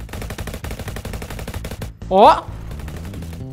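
Rapid automatic gunfire in a Roblox shooter game, dense repeated bursts through the clip, with a brief vocal exclamation near the middle.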